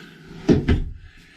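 A cabin vanity drawer on full-extension ball bearing guides slides and knocks shut nearby, giving two quick wooden thumps in a quiet room.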